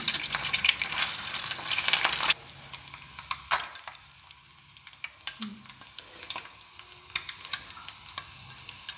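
An omelette with boiled egg fries on low flame in a pan, with a loud sizzle and stirring scrapes that settle into quieter, intermittent crackles and taps.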